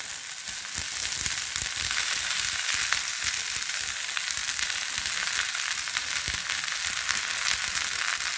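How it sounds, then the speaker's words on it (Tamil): Okra sizzles and fries in coconut oil in a pan, a steady dense crackle with occasional sharper pops and no talking. "இப்போ இந்த வெண்டைக்காயை போட்டு நல்லா வதக்கி எடுக்கணும்."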